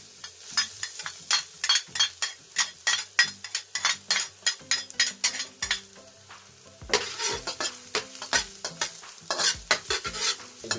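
Garlic sizzles and fries in a pan while a utensil stirs it, sharp scraping strokes landing in a quick, irregular rhythm over a steady crackling hiss.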